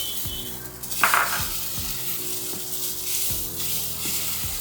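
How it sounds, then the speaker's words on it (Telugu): Onions sizzle in a hot pan for lemon coconut dal, giving a steady frying hiss broken by several low scraping stirs of a utensil against the pan. "ఉల్లిపాయలు కొంచెం వేగితే చాలు, ఎర్రగా వేగవలసిన అవసరం అయితే లేదు"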